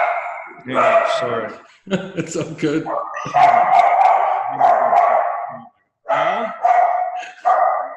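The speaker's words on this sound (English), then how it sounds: "my dog's about to go nuts." A dog barks loudly and repeatedly in bursts close by, overlapping a man's apologetic speech indoors with short pauses between the barks.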